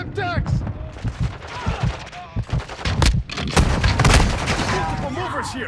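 Heavy gunfire in Call of Duty: Modern Warfare II: dense, rapid bursts of shots and booming blasts that build steadily, with occasional voices mixed in among them.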